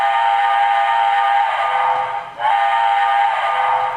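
Sound-system steam whistle of an MTH HO scale New York Central J3a Empire State Express locomotive model, two long loud chime blasts with a brief dip between them, heard close and alone.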